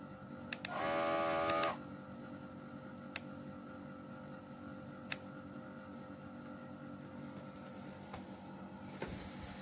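A small TONUNI portable electric ball pump gives a short, loud, close motor whir lasting about a second near the start. After it stops, only faint clicks and quiet background remain.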